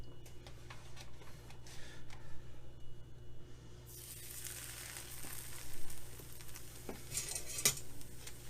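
Flour tortilla cooking in a lightly oiled pan, a soft steady sizzle that swells from about four seconds on, with faint clinks and taps of cookware over a low constant hum.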